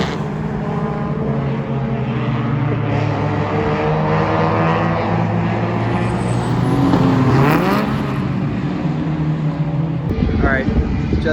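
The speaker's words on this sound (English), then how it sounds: "about to take the car on track for the first time and do the brake bed in" Race car on a track during brake bed-in, engine droning steadily nearby with pitch rising and falling through speed-ups and slowdowns, loud throughout with talking over it.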